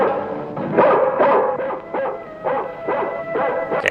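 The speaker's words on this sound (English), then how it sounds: "I'm guessing the dog is trying to tell you" A dog barking in an old science fiction film, a run of repeated, close, loud barks and yips in uneven rhythm, with some whimpering tone, heard alone without talking.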